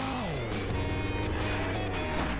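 A car drifts in Garry's Mod, its engine holding a steady, loud drone that slides downward in pitch, with a faint hiss of tires over the continuous motor tone.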